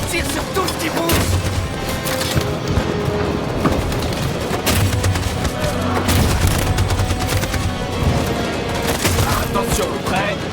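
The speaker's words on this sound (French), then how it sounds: "Cette saloperie de mitraillette tire sur tout ce qui bouge!" Machine gun fire in the video game Detroit: Become Human, a dense, continuous barrage of rapid shots and booms with battle noise running loud throughout the whole stretch.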